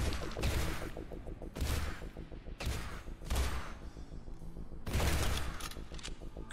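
Bursts of rapid gunfire from the video game This Strange Realm of Mine crackle in quick volleys, several short strings of shots with brief pauses between, steady and moderately loud.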